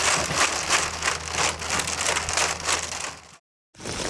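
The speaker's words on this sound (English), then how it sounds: "we finished just in time to have a crazy storm, crazy hailstorm, a crazy amount of water coming down" A hailstorm with heavy rain batters surfaces near a stone house, dense crackling impacts and a rushing downpour that cut out abruptly near the end before returning.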